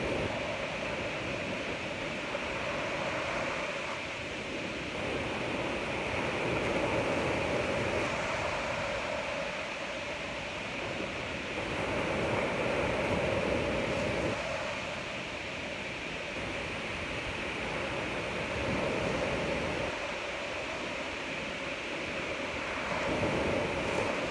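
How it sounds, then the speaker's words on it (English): Ocean waves wash in and recede in slow, soft surges over a constant broadband hiss, with no voices. "Soak in the sounds of these beautiful waves, the beautiful scenery"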